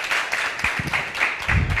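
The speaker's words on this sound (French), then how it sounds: "Merci de l'applaudir." Audience applause at a university debating championship, a steady wash of clapping through the whole stretch with a few low thumps, fairly close and with no one speaking over it.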